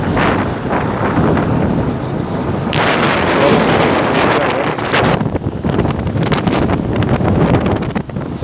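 Strong wind buffets the microphone continuously outdoors by a cold storage warehouse, a loud, rumbling roar with gusty fluctuations and no speech.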